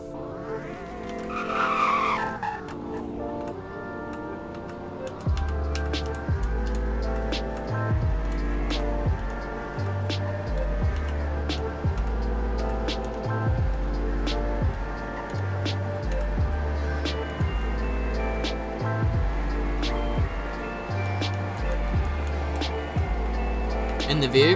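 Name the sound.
car driving in speed test, Roblox Greenville video game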